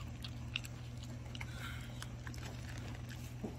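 Desalted gompi, a brown kelp, is chewed very close, with faint, soft crunchy bites scattered over a low, steady hum.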